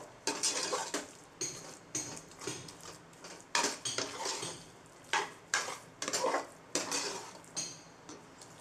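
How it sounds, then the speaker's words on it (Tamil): Sweet pongal with grated carrot and jaggery being stirred in a pot, a ladle scraping and clinking against the metal in irregular bursts, close and fairly quiet, with no talking. "இதை நல்லா கிளறிட்டே இருக்கணும்."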